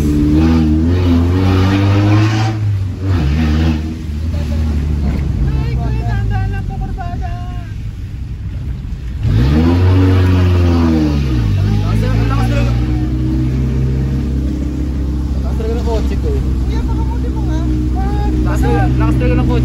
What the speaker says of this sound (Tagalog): Lakas talaga ng kotse namin.